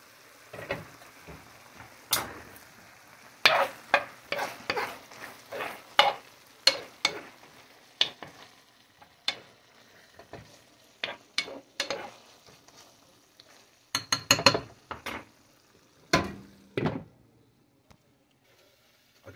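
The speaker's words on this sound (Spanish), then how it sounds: "Vamos a estar moviendo para que no se nos vayan a quemar." Pork carnitas with chile sizzle and fry in a pan while being stirred, giving irregular close scraping and clacking bursts over a quiet frying hiss.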